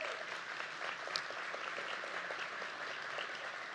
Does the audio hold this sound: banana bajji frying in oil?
no